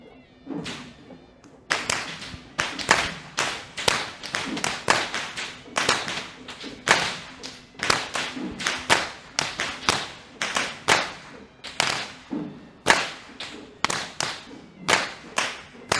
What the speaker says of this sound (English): this team of whip wielders are trained by Mr. Upali Jayaratna.